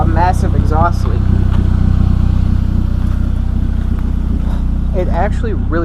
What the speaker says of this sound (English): a massive exhaust leak.